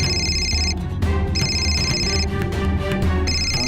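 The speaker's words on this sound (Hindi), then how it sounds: "दुबई से फोन आ रहा है" A telephone rings in repeated electronic bursts, clear and steady, over a low background bed, as a call comes in from Dubai.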